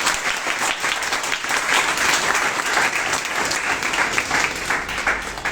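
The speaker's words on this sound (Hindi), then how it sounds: "चलिए तो थोड़ा ताली बजा देंगे आप लोग।" Steady applause from an audience at an Indian gathering honouring a student who succeeded in the Navy, continuous dense clapping filling the room at an even level throughout.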